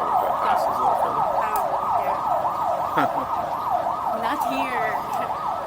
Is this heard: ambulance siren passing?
yes